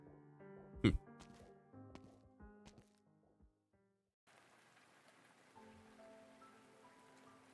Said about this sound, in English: Never in her life has Lavinia experienced rain so frigid and biting in Siracusa.